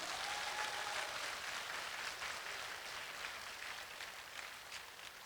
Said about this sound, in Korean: 박수로 하나님께.